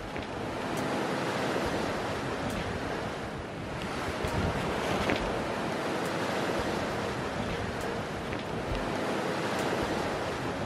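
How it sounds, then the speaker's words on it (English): Ocean waves in the South Pacific rush steadily around a sailboat running under a reefed mainsail, a continuous loud wash of surf mixed with wind buffeting the microphone, with no voices. "These waves are pushing us right along."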